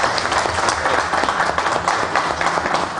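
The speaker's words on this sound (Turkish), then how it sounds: "Güçlü bir alkış istiyorum" Strong audience applause at a ceremony held by the Aksaray Commodity Exchange board, a short burst of dense, even clapping at fairly loud volume.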